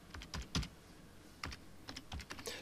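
Keys on a computer keyboard clatter in short irregular bursts of quick, faint clicks with brief pauses between them, close by and with no talking.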